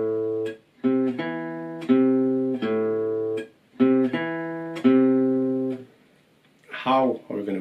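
An acoustic guitar plays a short riff of sustained notes, each abruptly muted so a clear silent gap separates them, close and clean, with a few pattern repeats and a faint voice at the end.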